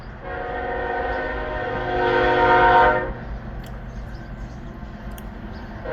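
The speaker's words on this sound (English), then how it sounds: "gotta wait for the train to go by" A train rolls by nearby and sounds a long, loud, steady horn for about three seconds. The horn cuts off and the rumble of the rail cars continues underneath.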